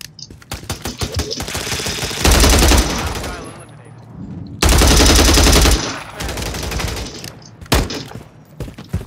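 Gunfire in Call of Duty MW3 on PC: rapid automatic bursts mixed with single shots, two heavy booming blasts mid-sequence, loud and close, with clicks between volleys.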